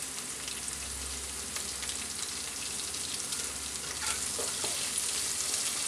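Curry leaves go into hot oil for a mussel pickle and give a steady, quiet crackling sizzle with faint stirring, close and alone.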